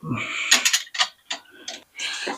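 A ratchet wrench tightening coil bolts on a car engine, giving several short bursts of quick metallic clicks with brief pauses between them, close and fairly loud.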